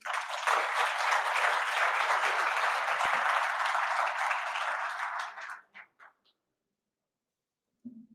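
Sustained audience applause in a room welcoming a speaker at a business premiere event, loud and steady for about five seconds, then tapering into a few scattered claps before a brief voice at the end.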